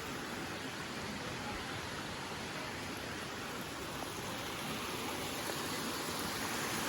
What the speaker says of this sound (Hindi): यही वो झरना है जिसके बारे में हम आपको बता रहे थे शुरू से।